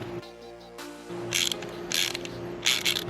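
Small FP screws being driven into parts of a FanHome DeLorean Time Machine model kit, giving a close, quiet ratcheting and clicking of screwdriver and plastic, with a few brighter scraping bursts.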